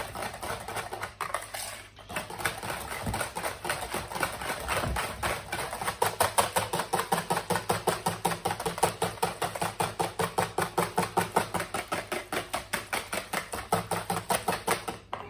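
Sugar is stirred into a Greek yoghurt cheesecake mixture in a bowl, making a fast, regular run of rhythmic clacking and scraping strokes that grows more even and louder midway, with no talk.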